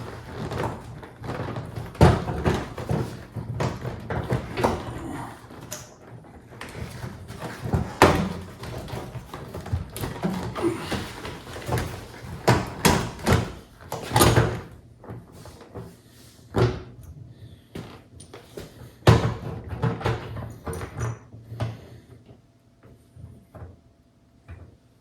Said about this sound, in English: just lift up on the door panel